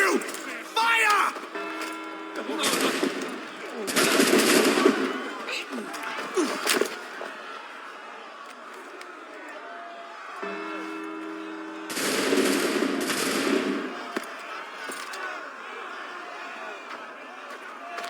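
Gunfire in the Assassin's Creed 3 video game: two loud, dense bursts of rapid shots a few seconds apart, with shouting voices and battle noise between them.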